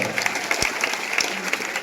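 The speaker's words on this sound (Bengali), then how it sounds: "হাততালি দিতে হবে, হাততালি দিতে হবে।" An audience at a college freshers' welcome comedy show claps together, a short burst of dense, even applause filling the room at close range with a few sharper individual claps standing out.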